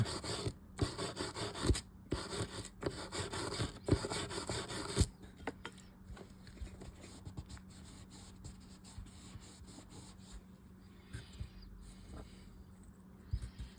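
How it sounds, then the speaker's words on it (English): An eared washer from an Abu Garcia Cardinal Max 5 fishing reel is scrubbed during servicing. Brisk rubbing strokes run steadily for about five seconds, then the scrubbing continues softer and more scattered, with no talking. "Let's scrub this a little bit more here."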